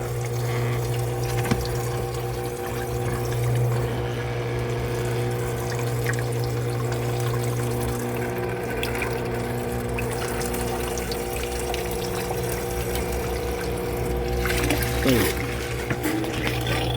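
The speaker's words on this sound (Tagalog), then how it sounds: "Ayan guys, kumagana na yung pump" An aquarium water pump runs in a fish tank, giving a steady, continuous rush of moving water over a low mechanical hum that holds at an even level from start to finish.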